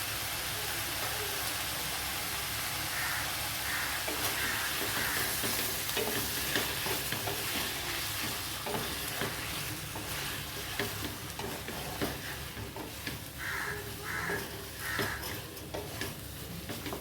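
Ginger garlic paste fries in a pan, making a constant close sizzle. Repeated scraping and tapping stir strokes run through it, with no talking.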